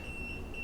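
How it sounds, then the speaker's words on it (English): Aventon Aventure 3 e-bike theft alarm gives a steady, thin high-pitched electronic beep that holds through the moment, moderately quiet over a low background rumble. "So it just makes like a little beep."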